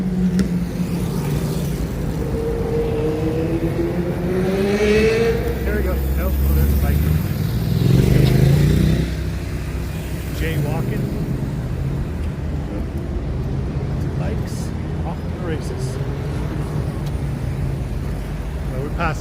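Street traffic in Bogota, Colombia on a Friday afternoon: steady car engines and road noise rumble throughout, with a vehicle passing close by midway, while people talk nearby.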